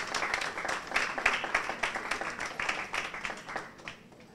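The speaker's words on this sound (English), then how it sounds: "I really want to commend and ask all of us to applaud them for the tremendous work that they did." An audience at the official opening ceremony of a cadet year applauds the cadets with steady, dense clapping that swells and then gradually tapers off, with a faint voice underneath.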